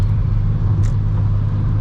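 A car drives on an expressway in the rain, producing a steady, loud low rumble of engine and road noise with a constant hiss above it and no pauses.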